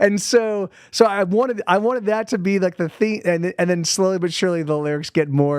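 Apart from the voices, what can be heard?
No distinct noise like a dog, phone or traffic.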